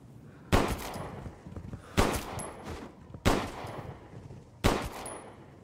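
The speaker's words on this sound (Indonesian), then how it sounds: "Empat tembakan gak mempan ya." Four loud gunshots in the video game Resident Evil Village ring out, evenly spaced about a second and a half apart, each a sharp blast with a short decaying tail over quiet background ambience.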